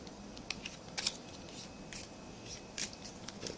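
Playing cards shuffled during a card game, several quick crisp riffling bursts spread through a quiet room, fairly close and soft.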